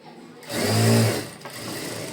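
A sewing machine makes a short, close whirring burst while stitching the side seam of a puff sleeve, followed by a softer continuing hum.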